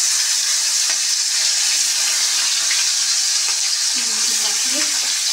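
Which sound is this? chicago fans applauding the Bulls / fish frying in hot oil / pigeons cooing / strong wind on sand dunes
fish frying in hot oil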